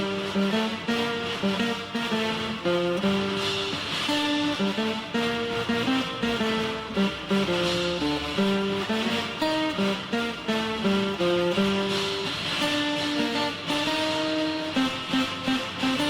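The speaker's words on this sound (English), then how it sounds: "Now it's time to learn the guitar melody" Guitar without a capo plays the melody of a piece from the Gladiator soundtrack, a continuous, dense run of picked notes ringing over sustained chords, steady and fairly loud throughout, with no talking.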